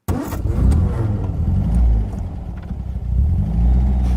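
An older car's engine cranks and catches, then revs up in a few rising surges before settling into a rough idle, loud and close with no one talking.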